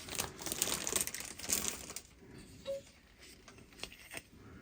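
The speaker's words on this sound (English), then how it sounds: "Let's go ahead and get rid of this plastic." Plastic wrapping pulled off the base of a Gundam bust figure, quiet crinkling and crackling bursts at close range, busiest at first and then trailing into sparse rustles and small clicks.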